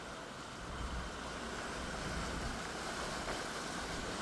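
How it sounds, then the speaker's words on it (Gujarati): Heavy rain pouring over a flooded highway in Samakhiyali, Kutch, a continuous dense wash of noise with wind rumble, steady and fairly faint throughout. "તો કચ્છના સામખિયાળીમાં ધોધમાર વરસાદ વરસ્યો"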